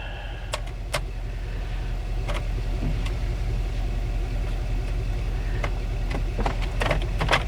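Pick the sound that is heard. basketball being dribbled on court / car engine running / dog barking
car engine running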